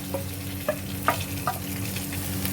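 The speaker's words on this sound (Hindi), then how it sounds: "प्याज ये डाल लेंगे जो मैंने पेस्ट बना के रखा था, इसको हल्का सा ब्राउन कर लेंगे।" Onion paste sizzles in hot oil with cumin seeds in a pan while shakshuka is prepared, with a low steady fry and a few soft stirring scrapes at intervals. No voices are heard.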